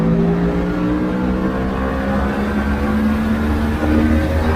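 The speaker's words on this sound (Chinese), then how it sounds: "我们顺便再来感受一下这台 V4 发动机在高转速区间的表现" A QJmotor Flash 600 V4 motorcycle engine screams at high revs on a race track, a loud sustained whine held steady from close range.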